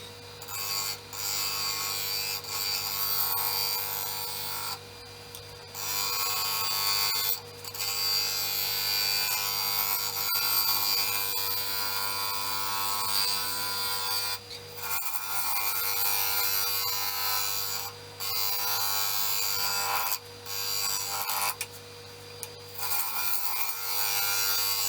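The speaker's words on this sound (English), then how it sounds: "Let's see if I can cut a little bit better with the gouge." A wooden coral bowl turning on a lathe while a gouge cuts it, giving a steady, loud rasping hiss with the spinning hum beneath and a few brief pauses as the tool lifts, with no talking.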